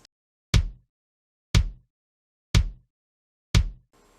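A drum plays four evenly spaced quarter-note beats, each a single low thump that decays quickly, with silence between hits and no talking.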